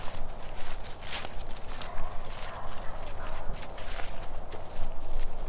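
Footsteps crunch through dry leaves outdoors near a garage, a quick uneven series of loud rustling steps close by with no talking.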